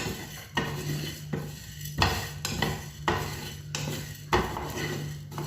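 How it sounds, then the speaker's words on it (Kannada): Cumin seeds dry-frying in a frying pan, stirred with a utensil that scrapes and clinks against the metal in repeated strokes, with a faint steady hiss underneath and no talking. "ಜೀರಿಗೆ ಸ್ವಲ್ಪ ಹಾಕಿ ಡ್ರೈ ಫ್ರೈ ಮಾಡ್ಕೋಬೇಕು"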